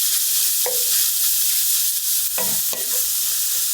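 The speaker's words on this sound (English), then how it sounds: "So we'll start off with the onions. Start to mix those in." Onions are stirred into crumbled meat frying in a pan: a loud continuous hiss and sizzle with two or three scraping stirs of a utensil against the pan.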